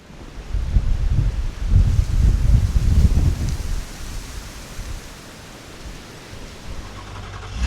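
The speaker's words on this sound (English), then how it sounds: "The wind is whipping." Strong wind whips through a snowstorm at a remote off-grid cabin in Maine, a loud gusty roar buffeting the microphone for several seconds before easing to a steadier, fainter rush.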